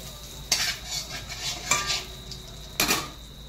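Chili and Everest-brand asafoetida sizzle in hot oil for a soybean masala paratha filling, with a steady frying hiss and three sharper bursts as spices hit the pan, with no talking.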